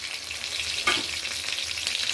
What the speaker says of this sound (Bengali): মোটামুটি হালকা ভেজে নিয়েছি বাকি মাছগুলো আমি দিয়ে দিলাম